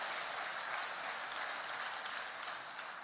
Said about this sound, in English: Let us clap to the Lord that he has brought us in his sanctuary